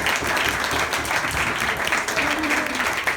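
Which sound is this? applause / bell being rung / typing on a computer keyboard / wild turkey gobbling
applause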